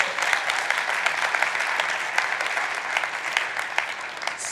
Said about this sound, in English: please give the AV team a huge round of applause